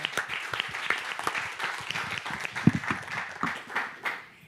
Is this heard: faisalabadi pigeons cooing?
no